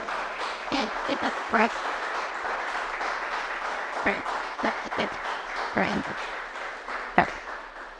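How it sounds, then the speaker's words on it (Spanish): A church congregation claps for the Lord during a Spanish-language sermon. The applause is moderately loud and a bit uneven, with sharper individual claps standing out and voices audible beneath it. "¿Cuánto le dan un aplauso al Señor?"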